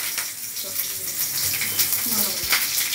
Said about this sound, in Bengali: কড়াই জিরে তেজপাতা দিয়ে দিলাম